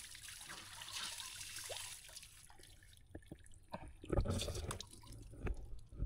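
Water drips and trickles in a shower after the flow is shut off, with scattered close drops that grow louder toward the end over a faint running hiss.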